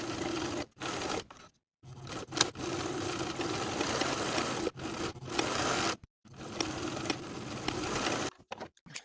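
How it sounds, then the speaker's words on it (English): A sewing machine runs top stitching along pocket edges on elastic-waist women's pants, a fast mechanical whir in several runs of a second or more, stopping briefly between passes, fairly close with no talk. "we're going to sew 2 rows of top stitching just as we did around the main back pocket"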